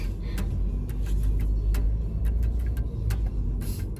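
A car drives along snowy roads at a steady cruise, its engine and tire noise a continuous low rumble, with faint ticking clicks scattered over the top.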